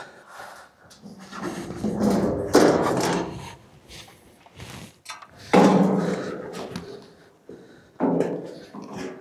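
A wooden pallet is unloaded from a wheelbarrow at a roof building site, giving a few loud, close knocks and scraping thumps in separate bursts.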